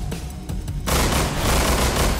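Gunfire in the shooter game Estranged: a few separate shots, then a dense, loud burst of rapid firing that keeps going to the end.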